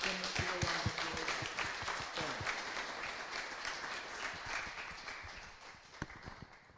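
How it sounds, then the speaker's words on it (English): Quiet applause from an audience at an award event, individual claps distinct and fairly sparse, tapering off over several seconds with a few late claps. "Give a round of applause"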